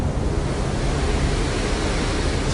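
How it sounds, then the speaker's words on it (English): A continuous roar of ocean waves, broad and steady, like surf breaking at some distance with no pauses. "It's a weird thing being able to hear the waves but not see it yet"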